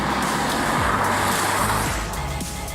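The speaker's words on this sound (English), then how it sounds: "Sport keeps the engine revving at its torque peak, giving you instant access to the 8-speed gearbox's kickdown, resulting in some very strong acceleration" A BMW 840d diesel with an 8-speed automatic accelerating hard in Sport mode, a loud, close engine note rising and falling in pitch through quick gear changes.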